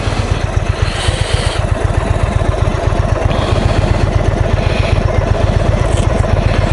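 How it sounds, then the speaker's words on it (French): A 2021 Indian Chief Dark Horse motorcycle idles close by, its large V-twin engine thumping in a steady, even loping rhythm throughout, loud and alone. "Je peux pas arrêter le moteur."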